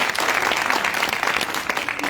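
Crowd applause at a public event with Sierra Leone's First Lady, dense continuous clapping from many hands filling the space, fairly loud and sustained for a couple of seconds.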